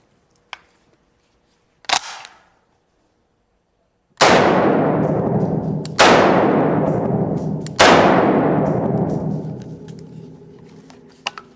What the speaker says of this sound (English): this is a Browning .30-06 caliber semi-automatic rifle